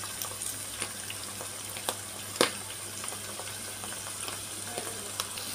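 Tofu and oyster mushrooms frying in a pan with oyster sauce: a steady, close sizzle with a few light clicks and clatters of stirring, and no talking.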